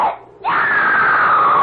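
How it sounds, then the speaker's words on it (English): A woman lets out a sudden, loud, sustained scream in a radio drama, preceded by a brief softer cry. "Someone screamed."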